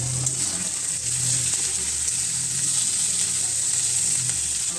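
Tomato added to hot oil in a pan sizzles and fries with a steady, bright crackle and occasional stirring, close and continuous.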